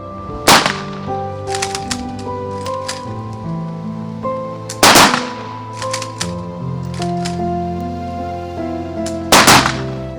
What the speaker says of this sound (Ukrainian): На знак останньої шани військового подвигу Ігоря Ялпути пролунав військовий салют.